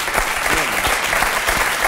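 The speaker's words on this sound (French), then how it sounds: "Tout le monde applaudit." A television talk-show studio audience claps loudly and steadily, close and dense, with a few sharper individual claps standing out and a faint voice briefly underneath.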